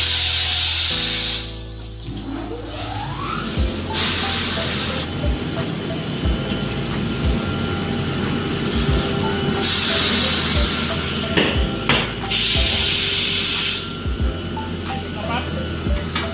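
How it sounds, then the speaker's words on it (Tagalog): A loud mechanical hum and rattle from an air compressor in a tire shop runs continuously nearby, with periodic bursts of hissing air, while people talk over it. "Maingay po yung aming compressor."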